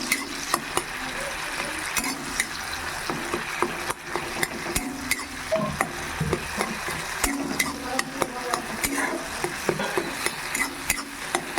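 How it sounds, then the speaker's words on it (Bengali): Tomato frying in oil in a wok, stirred steadily with a spatula, giving a continuous close sizzle broken by frequent scraping clicks of the utensil against the pan. "এর মধ্যে আমি প্রথমে টমেটোটা দিয়ে একটু ভালো করে কষে নেব"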